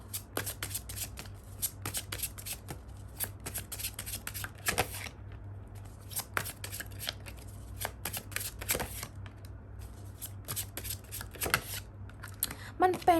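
A deck of tarot cards is shuffled close up over and over, the crisp riffling and slapping repeating in steady bursts over a low constant hum.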